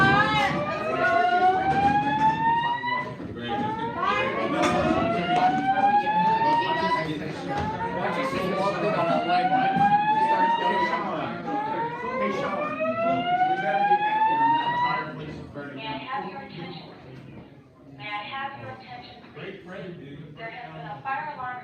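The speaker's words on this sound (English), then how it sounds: "There has been a fire alarm reported in the building." A building fire alarm sounds in repeated rising whooping sweeps, loud and steady for about fifteen seconds before giving way to a different pulsing tone, with a voice announcement layered over it.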